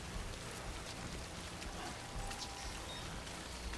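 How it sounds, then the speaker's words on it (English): Steady rain pours down in the Death Stranding video game, a dense, even hiss that stays at the same loudness throughout with no voices over it. "How long can I stay out in the rain?"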